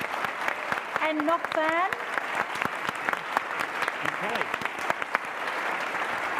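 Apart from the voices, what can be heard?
audience applause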